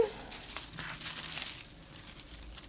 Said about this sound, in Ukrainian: Так, розкладаємо наш рукав для випікання на столі.